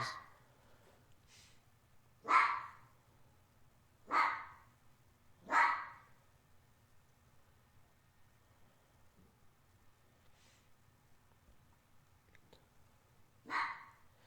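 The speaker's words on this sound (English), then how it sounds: "Fennec foxes bark like dogs." Four sharp barks from a fennec fox, three close together near the start and one more after a long quiet gap, clear against faint background hiss.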